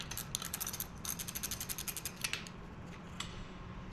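A ratcheting 7/16 wrench tightens nuts while assembling a 2x72 belt grinder kit, giving a close run of quick, even metallic clicks that slows and then stops, with no speech.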